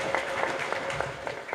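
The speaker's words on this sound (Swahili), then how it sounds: "Wapigieni makofi mengi sana mameneja wa mabenki hao." Crowd clapping for bank managers at an academic awards ceremony for secondary schools in Iringa, a steady dense patter of many hands throughout, moderately loud and fairly distant in a hall.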